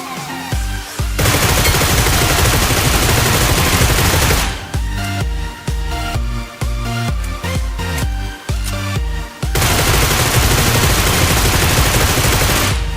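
Loud bursts of rapid gunfire from a PUBG mobile battle royale game, dense fusillades broken by short gaps and single shots, alone without talk.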